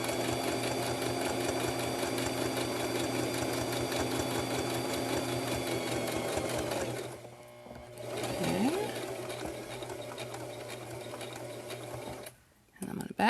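A home sewing machine stitches a homemade fabric face mask, its fast steady whir running loud and close, briefly pausing and starting again, with someone talking over it now and then.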